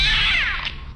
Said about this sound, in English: Suddenly, that black cat got up and roared.